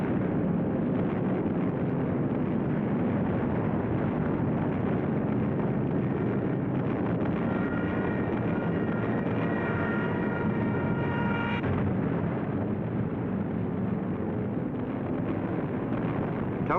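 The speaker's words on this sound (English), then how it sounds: "The flak is intense and accurate." Anti-aircraft flak bursts around a bomber flying over Japan, heard as a loud, continuous roar of engines and muffled rumbling detonations from inside the aircraft, with a brief tonal whine partway through.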